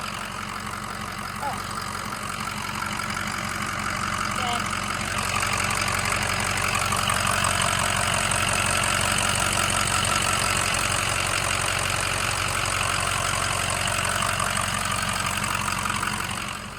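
A 2006 Ford F250 6.0 Powerstroke diesel engine idles steadily up close, a continuous low rumble with a rattling knock, growing a little louder partway through.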